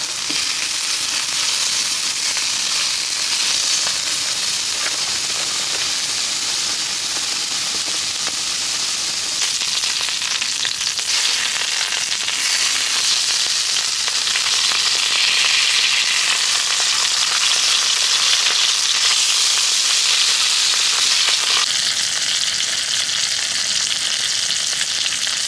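Raclette cheese sizzles and spits on a camp grill in the woods, a dense, continuous frying hiss that stays loud and close, swelling slightly in the second half.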